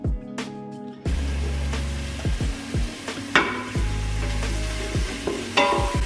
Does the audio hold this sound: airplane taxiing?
no